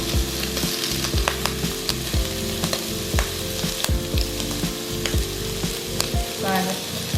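Shrimp frying at medium heat for Thai basil fried rice, a loud, close, steady sizzle with occasional pops and a repeating knock of the pan or utensil.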